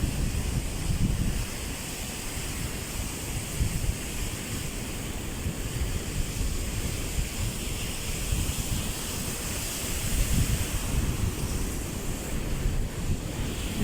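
Steady roar of ocean surf at a river mouth with continuous wind rumble across the microphone, waves rolling in without pause.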